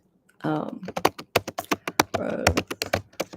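Quick keystrokes on a computer keyboard, steady and close, clattering over the sound of someone chewing or talking during a live tarot and astrology reading.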